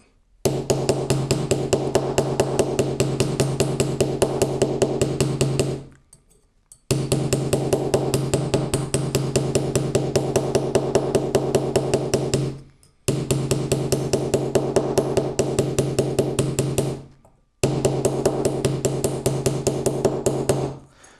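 Fast, evenly spaced taps from the flat side of a hammer ring on a metal earring blank in four long runs separated by brief pauses, close and sharp.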